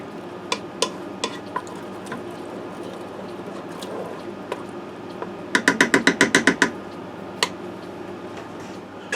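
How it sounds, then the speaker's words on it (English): Spoon stirring shredded cheddar cheese into a breakfast mixture in a Ninja Foodi pot, a quick run of sharp scraping clicks in the middle, with scattered lighter taps before and after. "Stir that in."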